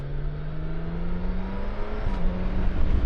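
A BMW K1600GT six-cylinder touring motorcycle engine pulls steadily under load, a smooth droning hum with rising pitch heard from on the bike amid continuous wind rush, with no talking.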